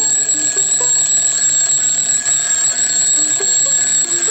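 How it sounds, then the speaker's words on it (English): An old alarm clock ringing at full volume, a sustained, piercing metallic bell tone that carries on steadily and alone for the whole stretch. "the nerve-shattering sound of his silly old alarm clock ringing at the top of its bone"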